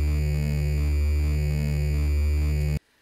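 Game Boy LSDj tracker playing a smooth sample looped in ping-pong mode, a steady sustained tone with a gentle slow wobble that stops abruptly near the end.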